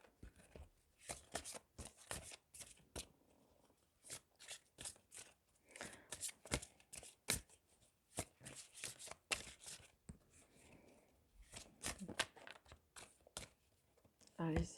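Tarot cards being shuffled and drawn, giving a series of crisp, close card snaps and flicks in irregular quick bursts, quiet overall, with a voice speaking softly at times between them.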